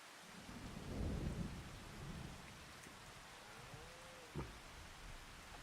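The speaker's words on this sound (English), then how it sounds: "Oh my word, it's raining." Rain falling steadily with a rumble of thunder early on in the video game Farming Simulator 25, a constant wash of rainfall with a few faint knocks and no talking.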